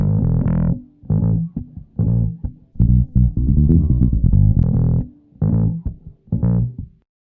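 Bass guitar played through a distortion amp plugin, a series of loud plucked note phrases with pauses between them, the distorted tone adding mid-range definition.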